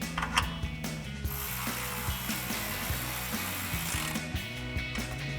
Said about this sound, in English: Using our 12mm socket, we can tighten this down.